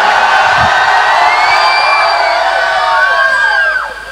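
A live comedy show crowd erupts in loud, sustained cheering and high whoops, many voices shouting together close and full, tapering slightly at the end.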